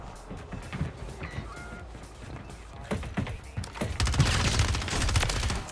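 Rapid SMG bursts in the Warzone video game, repeated automatic fire growing denser and louder toward the end amid game noise.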